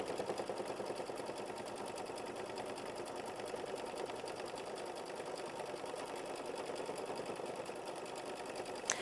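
A quilting machine stitching micro feather designs into a quilt block, running as an even, fast mechanical whir with a rapid stitching rhythm that holds steady throughout at moderate loudness.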